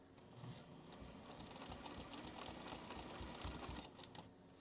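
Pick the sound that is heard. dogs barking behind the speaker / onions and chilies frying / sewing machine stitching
sewing machine stitching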